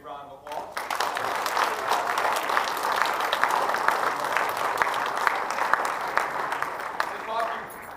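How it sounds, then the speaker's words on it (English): A school audience breaks into applause for a JROTC group, a dense burst of clapping that starts abruptly and holds steady for several seconds before fading, with some voices mixed in. "If we could, please give JROTC a big round of applause"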